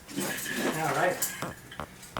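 Metal clip clanks onto a homemade cable-machine pulley rig, a few short bright clinks and rattles at close range, with brief scraping between them and no talking.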